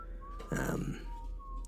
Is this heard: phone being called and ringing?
no